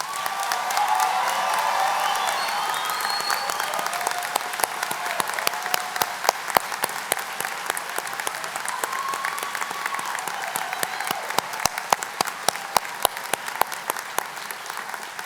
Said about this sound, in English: Let's give our students one heck of a round of applause.